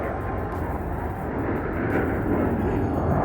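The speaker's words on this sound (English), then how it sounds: "That's a F-18." An F-18 fighter jet passes overhead as a broad, steady roar that swells slightly toward the end, heard from a distance outdoors without talk.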